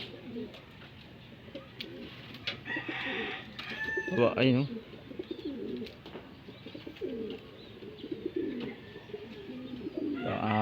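Pigeons coo in low, soft bursts near and far, with brief calls from other birds and a few short spoken words.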